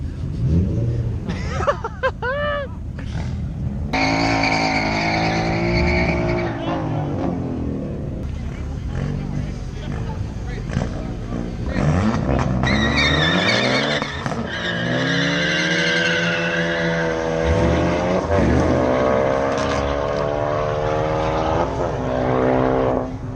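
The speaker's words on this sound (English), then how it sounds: "That's not a stock ST with a blow-off valve." At a car meet, a built Ford ST with a blow-off valve revs hard in repeated loud sweeps, with tire squeals and other engines nearby and people talking over it.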